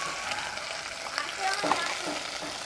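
Onion and garlic frying in hot oil for a fish curry, a steady, close sizzle with faint scraping and small crackles running throughout, no talking.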